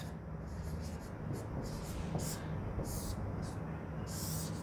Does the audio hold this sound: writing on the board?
yes